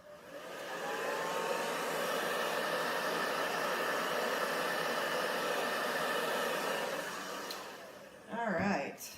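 Steady, loud blowing air like a hair dryer runs continuously for about eight seconds over an acrylic pour coaster, then cuts off, followed by a brief low rumble.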